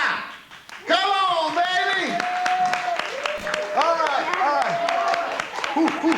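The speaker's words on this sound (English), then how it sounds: "Big round of applause for Neftali Ventura!" A comedy club audience applauds and cheers for a comedian taking the stage, with steady clapping under loud whooping and tonal shouts and a lively voice calling out over the crowd.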